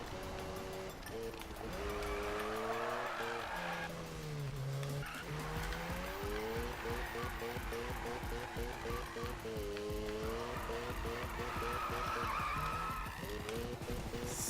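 Mazda RX-7 drift build in Need for Speed 2015, a rotary engine revving and shifting up and down while tires screech through long slides, loud and continuous throughout.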